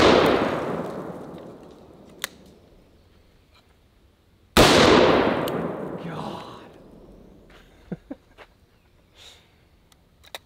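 Two booming .500 Magnum revolver shots about four and a half seconds apart, each loud and close with a long rolling decay, followed by a few faint clicks and knocks.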